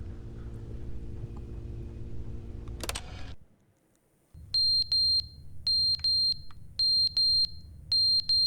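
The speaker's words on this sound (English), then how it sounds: "Alarm's going off for some reason." Repeated electronic alarm beeps from The Stanley Parable: Ultra Deluxe sound in loud, evenly spaced bursts of several pulses each, following a rumbling, droning passage that cuts to near silence.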